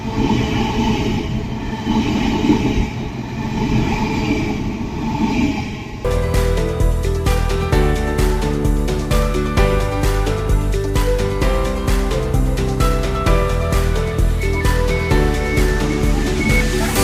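A train arrives at Wavertree Technology Park station on the Liverpool–Manchester line. Rumbling and wheel noise swell up first, then a dense, loud rolling clatter with squealing tones carries on steadily, with no voices.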